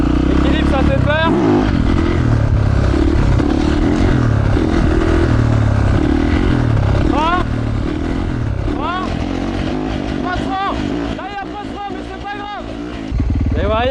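A motorcycle engine revs and roars loudly and continuously as the rider holds a wheelie, with throttle swells and harmonic sweeps rising and falling throughout, while someone talks over it.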